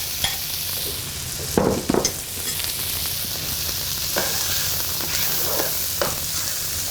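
Mushrooms cook in a pan with a continuous sizzle, broken by a few clattering stirs and scrapes of a utensil, the busiest bursts coming early.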